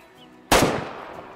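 A single rifle shot fired at a mountain goat in the hunting game Way of the Hunter, a sharp loud crack followed by a long fading rolling echo.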